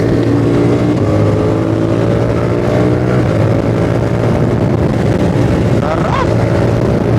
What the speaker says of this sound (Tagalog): This is CF Moto 450 SRS.